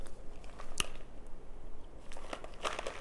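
Crunchy cornstarch bricks bitten and chewed up close, with a sharp crisp bite near the start followed by softer crackling chews and another burst of crunching toward the end.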